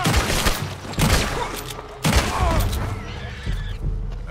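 Gunfire in Red Dead Redemption 2 lands as a few heavy booming shots within a busy game soundscape of rumble and thuds, moderately loud and close.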